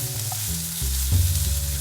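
Scallops sauté in a hot pan for a short stretch, a steady low sizzle with a few shifts as they are turned or moved, close and fairly quiet with no voices.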